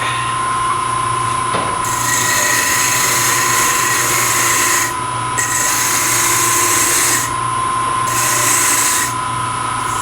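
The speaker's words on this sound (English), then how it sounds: "finish off with a sanding stick." Steady, continuous abrasive rubbing of segmented turned wood being sanded by hand with a sanding stick, close and fairly loud, with a constant hum underneath and no talking.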